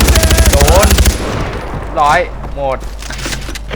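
Rapid automatic gunfire in the game Far Cry 4: a loud, fast rhythmic burst for about a second, then it stops, and voices talk over the quieter scene.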